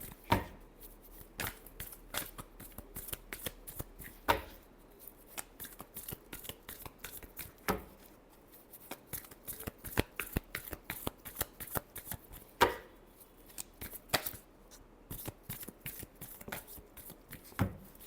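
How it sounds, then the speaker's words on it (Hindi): A deck of tarot cards is shuffled by hand for a reading, with repeated crisp riffling bursts and sharp slaps recurring irregularly across the stretch. The shuffling is close and fairly quiet, with no talk over it. "Last shuffle."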